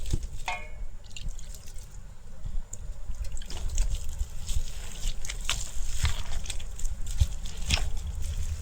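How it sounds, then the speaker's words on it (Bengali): A little water is poured onto palm fruit pulp in a bowl, producing close dripping and light pattering splashes that come in irregular bursts over a low background hum. "একটু জল দিয়ে এটারে নরম করব"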